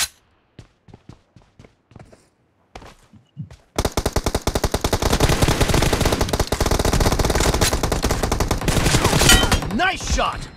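Gunfire from a team deathmatch video game starts with scattered single shots and then becomes a dense, sustained automatic burst that stays loud and close. Brief game voice callouts come near the end.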